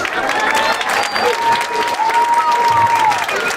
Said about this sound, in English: Let's give one more nice round of applause to all of our students